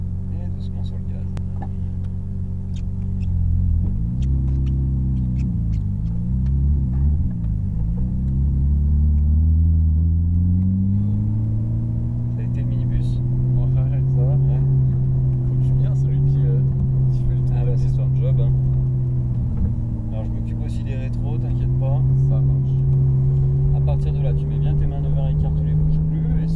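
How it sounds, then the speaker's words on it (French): A Ferrari 458 Italia accelerates on a race circuit, its engine note rising and falling steadily through a long pull, loud and close, heard from inside with someone speaking French over it. "appuyer sur la palette de droite et doucement sur le gaz."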